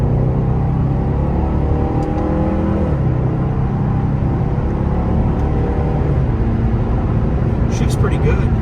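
A 2015 Chevrolet SS sedan accelerates hard in third gear with a loud, sustained engine roar and rising tone over heavy road and wind noise inside the cabin.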